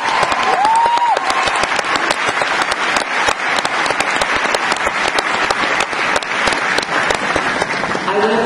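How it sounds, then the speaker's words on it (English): A commencement audience at a 2014 graduation ceremony breaks into sustained, dense applause, many hands clapping loudly and evenly from near and far, with a brief voice or whistle early on. "would you please give them a round of applause?"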